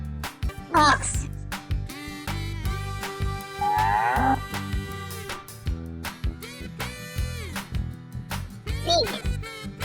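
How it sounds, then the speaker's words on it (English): A farm ox lows once in a mid-length moo, set against steady upbeat music, with a voice speaking around it. "Ox."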